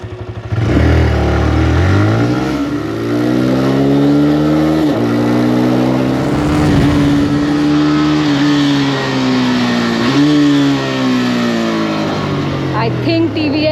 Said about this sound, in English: So TVS claims that this is one of the fastest accelerating motorcycles among the affordable 125cc's.